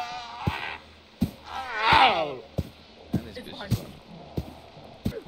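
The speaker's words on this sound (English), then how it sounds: "Oh, there's a goat right here." A goat in the horror video game Devour gives wavering, drawn-out bleats, loudest around the middle, amid sharp thuds and footstep-like knocks while people talk over it.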